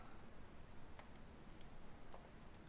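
Soft, faint mouse clicks, several spaced irregularly across a quiet background.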